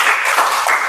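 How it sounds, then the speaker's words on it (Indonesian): A primary school class claps hands together in a short, dense burst of applause filling the room. "Kalau tepuk tangan."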